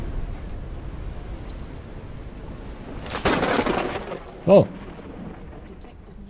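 Lightning strikes and rolling thunder in the video game Forever Skies, a broad crash surging in around the middle and rumbling on, with a brief exclamation from a voice just afterward.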